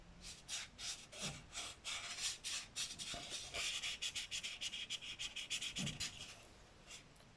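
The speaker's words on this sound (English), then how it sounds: "even though the paint looks smooth, it's rough, as you can hear" Hand rubbing back and forth over a rough painted surface, a soft close scratchy swishing in repeated strokes, faint and steady with no speech.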